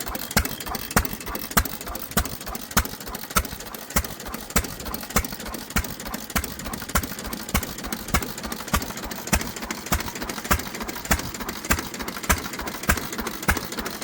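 An old Amanco stationary engine, over 100 years old, runs steadily with a regular clattering knock, evenly spaced beats repeating over a constant mechanical rumble, close and moderately loud.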